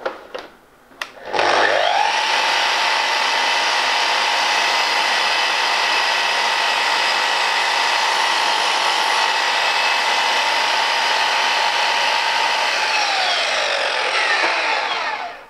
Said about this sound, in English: we're just going to go ahead and make a shallow cut on the board